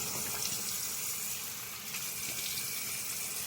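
Tap water runs steadily into a sink while face cleanser is rinsed off, a continuous close splashing rush with no talk.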